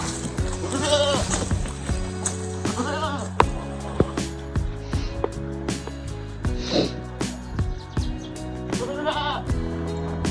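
Goat bleating during wrestling training, several loud wavering bleats in bursts over a steady low music bed, with brief thumps between calls.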